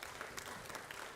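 Brief burst of applause at a youth forum on sustainable development and human rights, honouring a dignitary: many hands clapping at once in a dense, even patter with a few sharper individual claps.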